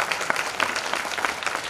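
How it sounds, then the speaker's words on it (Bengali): An audience applauds for GDM at a business seminar. The clapping is dense and continuous for a short burst, with no one speaking over it. "জিডিএম এর জন্য আবারও জোরদার করতালি হওয়া উচিত"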